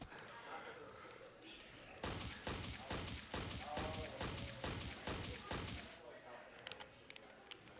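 Rapid bursts of gunfire from an allied Titan robot in the game Metal Arms: Glitch in the System, about eight evenly spaced loud blasts in a steady rhythm over game ambience, with voice faintly underneath.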